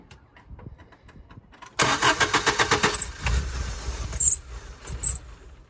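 The engine of Zach's Daily van, which is surging, cranks with a rapid rhythmic starter chatter after a few clicks, then catches and runs roughly with uneven revs and occasional high squeals, close by.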